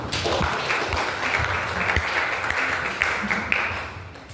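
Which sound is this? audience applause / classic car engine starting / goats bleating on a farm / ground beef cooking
audience applause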